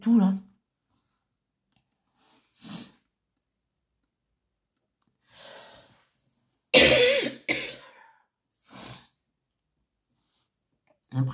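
One person coughs and clears their throat several times at close range, with a strong double cough in the middle and softer ones spaced around it, separated by silence.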